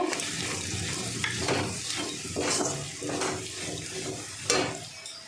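Ground cumin, coriander and turmeric fry in a pan while being stirred, a moderate sizzle with repeated scraping strokes at a steady rhythm, no speech.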